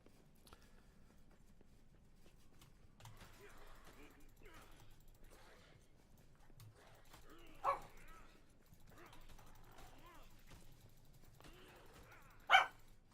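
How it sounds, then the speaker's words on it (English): A dog indoors barks and whimpers in soft, scattered yips and whines, with two sharper, louder barks standing out against a quiet background. "my dog's just going to be chattering away a little bit"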